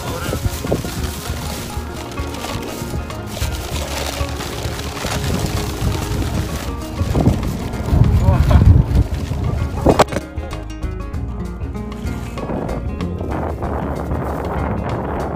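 Strong wind buffets an outdoor microphone with heavy, uneven low rumbling and gusty roaring that swells and eases, with other faint outdoor sounds mixed in.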